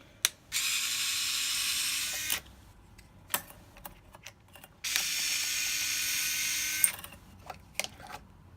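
Rusted nuts being loosened on a reel with a ratcheting tool: two long, steady ratcheting bursts with a few sharp clicks between them, close up and fairly quiet, with no talking.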